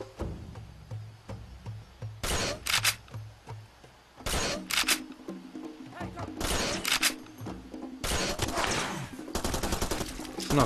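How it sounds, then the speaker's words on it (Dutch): Shotgun blasts aimed at a zebra in the video game Far Cry 2, several sharp loud bangs in irregular bursts, with a voice talking between them. "Ik ga gewoon op hem schieten hoor."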